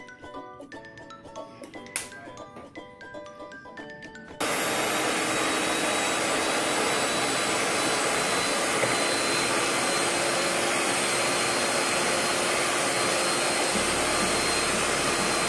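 An electric beater mixes chocolate muffin batter in a bowl. A few light clinks come first, then the beater kicks in with a loud, steady whirring hum that carries on without a break to the end.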